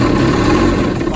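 A Yamaha VX Deluxe jet ski engine runs at a steady idle during winterizing, the cylinders being fogged; a loud, continuous close-up rumble with a low drone and no voices.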